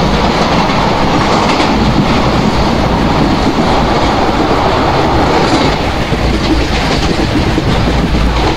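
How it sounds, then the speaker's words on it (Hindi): A WDM2 diesel locomotive hauling a passenger train in the Open Rails simulator accelerates with a loud, steady rumble and continuous wheel clatter on the rails, dense and unbroken throughout. "हमारी लोकोमोटिव की एक्सेलरेशन अच्छी है"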